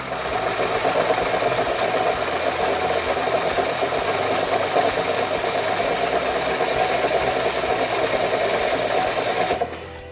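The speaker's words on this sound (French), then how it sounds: "Je vais tenir d'une main le fil sur la bobine, et de l'autre main, je vais appuyer sur le bouton" Homemade copper wire coil winding machine running steadily, a continuous buzzing motor whir that holds even for about nine seconds before stopping abruptly.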